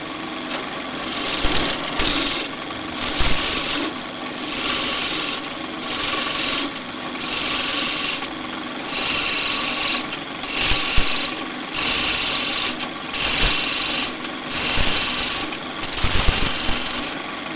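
A skew chisel for woodturning is sharpened on a grinder in regular rhythmic passes, each roughly a second long with brief gaps between them. The gritty rasping sits loud and close over a steady motor hum.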